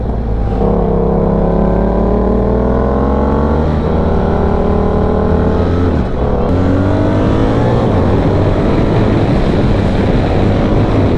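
Loud BMW R1300 GSA Trophy motorcycle engine droning under acceleration, pitch rising smoothly through the gears with brief dips at shifts, plus wind rush from riding.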